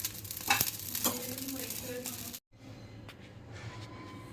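Vavding (false black pepper) seeds roasting dry in a pan, a busy crackle of small pops and sizzling that stops abruptly midway, followed by quieter pan noise and faint clicks.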